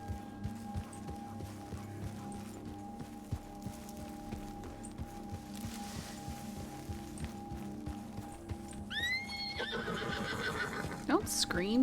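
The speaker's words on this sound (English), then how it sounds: "Don't scream, you dumb horse." A horse in the RedM roleplay game whinnies in loud, rising squeals toward the end, over a steady background tone, faint hoof clip-clops and ambient noise.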